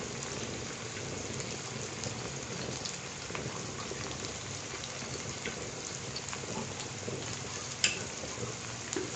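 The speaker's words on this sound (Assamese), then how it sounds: "চব তেলতে সিজাই ল'ব মছলাবোৰ" Spices fry in hot oil for a chicken curry with raw jackfruit, giving off a steady, close, rain-like sizzle that holds evenly throughout with a few faint pops and one brief clink near the end.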